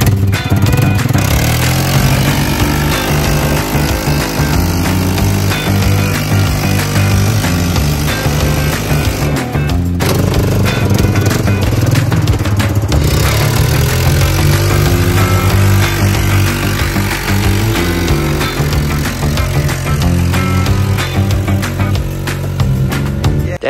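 Several snowmobile engines run loud and close on a snowy hill beside a trailer, a continuous buzzing rattle that rises and falls in pitch, with a brief dip partway through.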